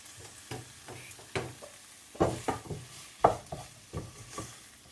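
Mango chutney being stirred into chilli pickle in a pan, soft irregular scraping strokes with a faint sizzle underneath, quiet and close.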